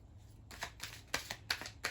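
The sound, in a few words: shuffling tarot cards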